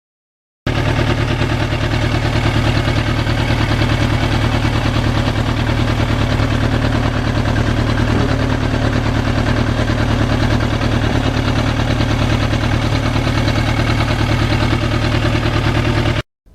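A 1991 Yamaha FZR 1000cc motorcycle engine idles loudly and close, a steady continuous rumble that holds unchanged for about fifteen seconds before cutting off abruptly.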